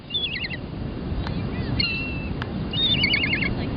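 Seagulls gather and circle near bait outdoors, giving several high, warbling calls in short bursts at the start and end, over steady wind or water noise.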